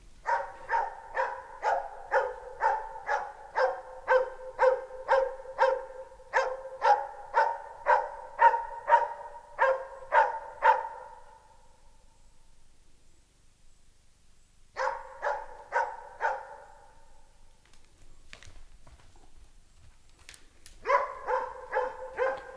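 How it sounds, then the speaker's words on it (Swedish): A young Jämthund barks steadily at a moose, a long run of loud, evenly spaced barks, a pause, a shorter burst, then another brief pause before the barking resumes near the end. "Den har också sina genetiska anlag för att faktiskt skälla ståndskall."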